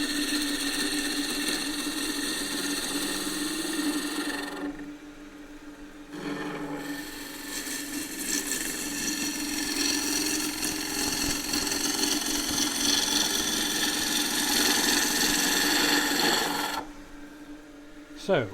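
A wood lathe spins a workpiece while a gouge cuts at the edge, a steady scraping, rasping hiss over the motor hum, briefly stopping twice and resuming, up close.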